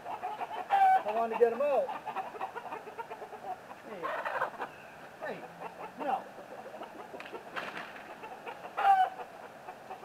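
Backyard chickens squawking and clucking inside their coop, scattered calls over a busy rustling background while a person talks nearby.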